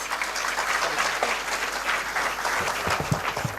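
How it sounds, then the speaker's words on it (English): An auditorium audience at an international academic conference applauds to welcome Dr. K. Nirmala, a steady, dense wash of clapping throughout with a few louder claps near the end. "please welcome Dr. K. Nirmala with a round of applause"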